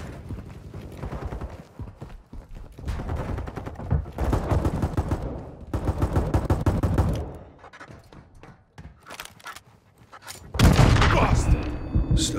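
Bursts of automatic gunfire in a Call of Duty match are broken by a quieter lull for a magazine switch, then the shooting resumes loudly in rapid, dense volleys.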